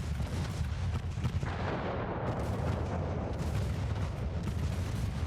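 Naval gunfire in the warship game Ultimate Admiral Dreadnoughts, a dense, steady low rumble of heavy booming cannon salvos that runs without a break.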